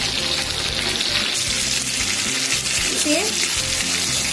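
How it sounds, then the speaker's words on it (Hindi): Jackfruit pieces tipped into a hot pan of golden fried onions sizzle loudly and steadily, with stirring and scraping clatter close up while a voice talks briefly over the frying. "अब इसमें हम लोग कटहल को डालकर 5 से 7 मिनट तक फ्राई करेंगे।"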